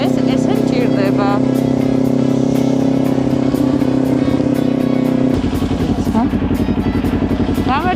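A motorcycle and car engines idle loudly and steadily in a traffic jam, close by. The drone shifts to a rougher, pulsing tone partway through, and voices speak faintly over it.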